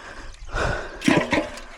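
Water is poured by hand from a container onto farm plants such as avocado and cardamom, a short close splash and gush that swells and then trails off.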